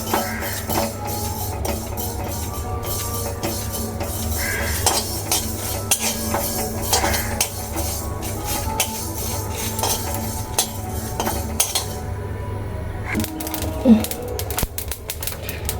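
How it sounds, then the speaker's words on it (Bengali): Whole spices, panch phoron, black mustard seeds and a dried chilli are dry-roasted in a pan, giving a steady stream of light rattling and scraping clinks that continues without a break. "এগুলোকে এবার শুকনো খোলায় একটু ভালো করে ভেজে নেবো।"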